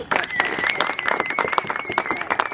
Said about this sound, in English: A big round of applause for all the staff.